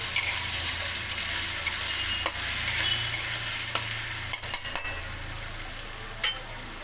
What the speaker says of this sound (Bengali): মুগের ডালটা দিয়ে আমি একটু নেড়ে চেড়ে নিচ্ছি